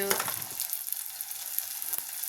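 Thinly sliced potato and beetroot fry in hot oil for pav bhaji, giving a steady close sizzle with a few soft stirring knocks.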